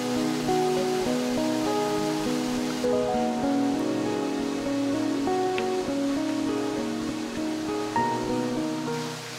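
A secluded waterfall, hidden deep in a crevice between tall bluffs in Arkansas and fed by a stream, rushes in a steady, unbroken wash. Sustained tonal music plays along with it throughout.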